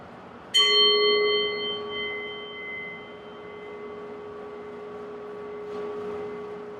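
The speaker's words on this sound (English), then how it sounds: "listening to the sound of the bell, and when you can't hear the bell anymore" A single mindfulness bell is struck once, a clear sustained ring with steady overtones that slowly decays over several seconds in a quiet room, followed by a faint soft tap near the end.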